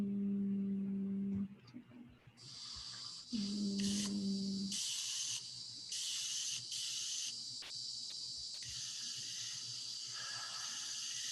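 A spray paint can hisses in bursts, some long and some short, with a low hum in between, heard through a screen-shared video and sounding thin and somewhat distant.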